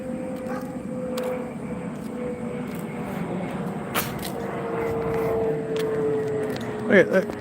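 An airplane flies overhead with a steady, distant engine drone that swells slightly before fading, and a brief voice is heard near the end.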